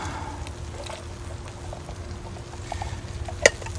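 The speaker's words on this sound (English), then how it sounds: "the black beans, I'm going to add them with their liquid" Black beans with their liquid poured into a pot of campfire chili make a soft, low, steady slosh close by, ending in a brief sharp clink, with no voices.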